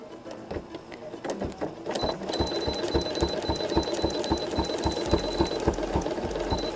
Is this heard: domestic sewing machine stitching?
yes